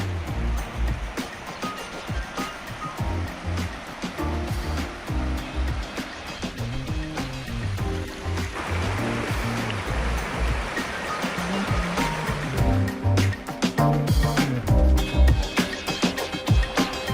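Steady rushing water from a stream or falls in a snowy outdoor spot, a continuous loud wash that grows fuller partway through, with no voices.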